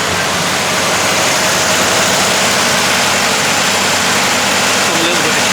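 A 1964 Ford F100 Stepside pickup's engine idles in a steady, loud, continuous rumble close by, with no break in the sound.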